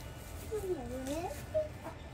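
A chicken gives a few soft clucks, fairly faint against a quiet background.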